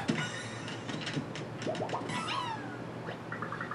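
A cartoon cat in Paper Mario: The Origami King lets out several short, rising meows over a soft game soundscape, clear and close.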